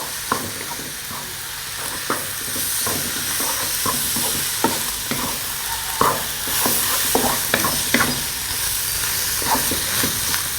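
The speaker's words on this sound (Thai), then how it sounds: "ผัดข้าวแบบนี้นะคะ" Pineapple fried rice stir-fried in a pan over medium heat with oyster sauce and soy sauce, giving a steady close sizzle broken by repeated rhythmic spatula scrapes and tosses, with no talking.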